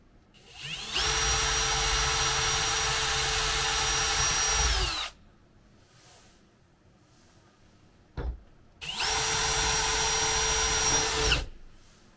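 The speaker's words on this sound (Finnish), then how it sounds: "tuosta magneettitelineen päästä pitäisi uskaltaa porata" A power drill whirs steadily for about four seconds, stops, then runs again in a second long burst, close and loud with no talking, drilling into a motorhome interior.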